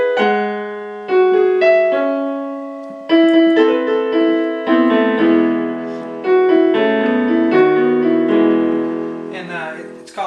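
Solo piano plays the intro of a ballad, with sustained chords and a gentle melody rising over them and phrases restarting every couple of seconds, close and clear with no voices.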